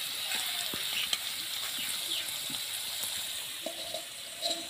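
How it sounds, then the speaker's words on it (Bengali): Bay leaves and cumin seeds tempering in hot oil, a fine continuous sizzle with scattered small crackles and pops, close up and moderately quiet, with no voices. "ফোড়নে দিয়ে দিচ্ছি 2টো তেজপাতা, দিয়ে দিচ্ছি জিরা"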